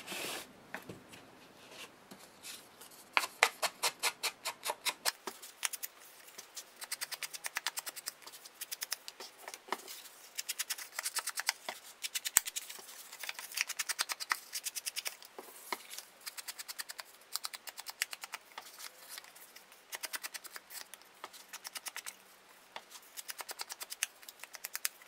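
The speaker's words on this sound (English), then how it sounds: "I'm going to take my Antique Linen Distress ink, and I am going to go ahead and ink the edges of my pattern paper here" Antique Linen Distress ink pad rubbed and dabbed along the edges of patterned paper for a handmade card, a close, quiet series of rapid scratchy strokes and taps with brief pauses, no talk.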